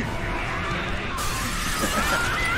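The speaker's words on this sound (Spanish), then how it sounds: "rompiendo cristales. Yo no pienso recoger esto." Glass shatters loudly and continuously in the video game Gears of War, a dense crashing spray of breaking panes amid game noise.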